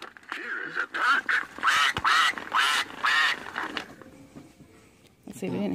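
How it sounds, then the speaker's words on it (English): A vintage See N Say farm toy plays a run of recorded duck quacks in quick succession, close and fairly loud, with talk heard at the very end. "Here is a duck."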